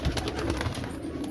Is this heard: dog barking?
no